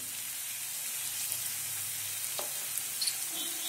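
Chopped tomatoes with asafoetida frying in a pan for bitter gourd sabzi, a soft steady sizzle with a few light stirring knocks, close and without talk.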